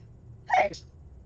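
A single sharp sneeze bursts out close by, brief and loud against quiet low background rumble.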